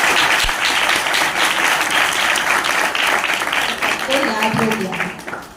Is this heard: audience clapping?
yes